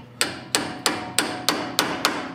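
Hammer strikes a center punch held against steel while a skull is forged, shaping the nose. Seven sharp, ringing metallic blows land close and evenly spaced with no talking.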